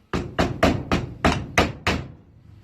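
A hammer taps a universal joint clamped in a vice during 4x4 driveline work: seven sharp metallic blows in a steady, fairly quick rhythm, close and loud with no talking.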